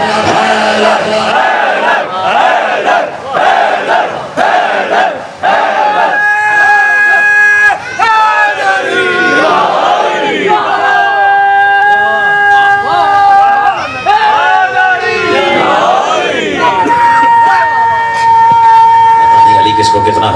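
A large religious gathering for a Safar mourning majlis answers with loud, rhythmic collective chanting in repeated surging waves, voices overlapping into a roaring crowd.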